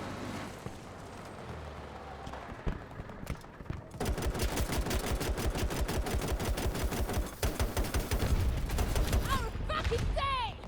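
Flak Cannon in Battlefield 2042 firing at an air vehicle: after a few scattered shots, a long rapid-fire burst of heavy, evenly spaced booming rounds, loud and continuous, with a voice talking over it.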